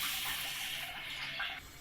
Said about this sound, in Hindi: आधा गिलास इसके अंदर मैं पानी ऐड करूँगी इसका, ताकि अच्छे तरीके से इसका शीरा तैयार कर सकें।